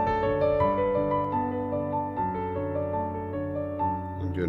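Piano playing 'Nearer, My God, To Thee' at double speed, with quick ornamental runs and trills over sustained bass chords, played steadily and fairly loud with no voices.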